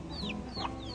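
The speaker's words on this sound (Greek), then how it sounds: "στην Κούβα βλέπεις αδέσποτες κότες." Brief clucking from a stray chicken in Cuba, a couple of quick squawky notes close by against a steady background hum.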